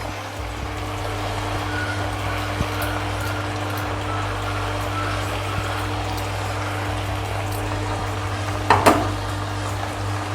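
Tomatoes and crushed ginger fry in a pan for Pallipalayam chicken, a steady loud sizzle with a few scraping stirs and a brief louder clatter near the end.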